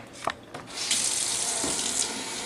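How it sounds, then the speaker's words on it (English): Tap water runs and pours steadily down a kitchen sink for a couple of seconds after a few short knocks and splashes. It is close and fairly loud, with no talking. "I pour mine just down the sink"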